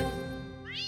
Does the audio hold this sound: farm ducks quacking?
no